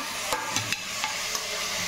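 Cucumber being stirred into fried masala for curry in a pan, with soft sizzling and several scraping spoon strokes at an irregular pace.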